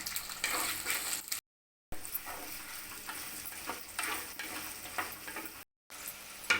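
Small shallots and green chillies sizzling and being stirred in a pan for prawn thokku, a soft continuous frying hiss with scraping stirs and two brief silent gaps.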